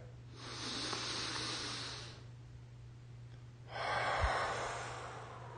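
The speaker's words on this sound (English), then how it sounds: "Through my nose. And then I exhale through my mouth. Deep breath." Two slow, deep breaths heard up close: a long airy inhale through the nose, a pause, then a strong exhale blown out through the mouth, over a faint steady hum; no talking.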